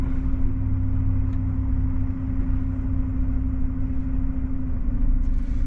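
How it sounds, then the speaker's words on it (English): Steady low road rumble and engine drone inside a truck cab in traffic in Fyshwick, Canberra, a continuous loud hum with a sustained low tone throughout. "Once we work this traffic out."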